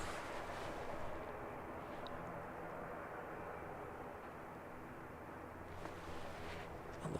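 A distant aircraft engine runs steadily at Christchurch Airport in New Zealand, a low, continuous rumble that holds for the whole stretch without clear peaks, with no talking.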